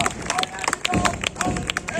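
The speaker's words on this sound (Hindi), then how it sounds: "तालियों से स्वागत करें बैंड का और उधर प्लाटून ड्रिल का" At a Founders' Day ground ceremony, a crowd claps to welcome a band and a platoon drill, producing brisk, scattered applause with sharp individual claps close by and a murmuring crowd behind.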